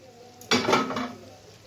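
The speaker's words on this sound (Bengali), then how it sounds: "তো ঢাকনাটা উঠিয়ে দিই।" A brief metallic clatter and scrape as a lid comes off a pan of olive pickle with jaggery and sugar on low heat, followed by a soft fading sizzle.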